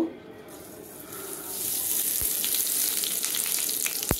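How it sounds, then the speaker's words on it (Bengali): Whole cumin seeds hit hot oil in a wok and begin to sizzle, a hiss that swells after a quiet start and holds steady and close, with a couple of sharp knocks. "তেল দিয়ে এই গোটা জিরে একটু ফোড়ন দেবো"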